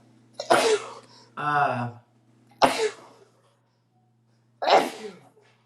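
Several sharp sneezes burst out one after another, close and loud, with a short spoken sound between them.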